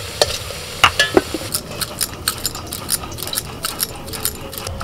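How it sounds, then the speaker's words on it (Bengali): Potatoes frying in oil in a pan, turned with a spatula: a constant sizzle broken by frequent sharp scrapes and taps of the utensil, close and fairly loud, with no talking. "আলুটাকে একটু ভালো করে ভেজে নিতে হবে"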